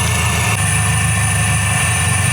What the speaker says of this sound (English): I'll show you guys afterwards while it's all idling and warming up